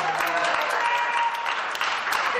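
A congregation claps for a man at a church gathering, with steady, dense applause from many people nearby and faint voices mixed in.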